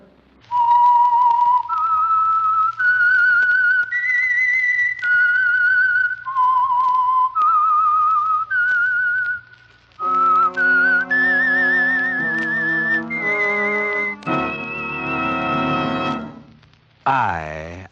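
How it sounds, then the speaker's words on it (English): A melodic whistled tune, the theme of the 1954 radio program The Whistler, clear and close, several held notes stepping up and down over a low hum, followed by a brighter, more complex musical sting. "That whistle is your signal for the Signal Oil Program"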